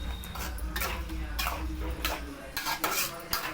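Squid thokku being stirred in a pan, with a spoon scraping and clinking against the metal in quick irregular strokes under a steady low hiss.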